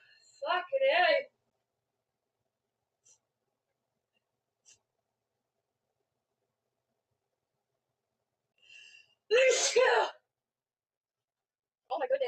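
A person in a sneezing fit lets out two loud, sharp sneezes about eight seconds apart, with near silence and a couple of tiny clicks between them and another burst starting at the very end.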